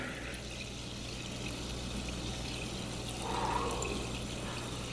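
A SodaStream carbonates a bottle of water with a steady, close hissing rush and a low hum, swelling briefly near the end.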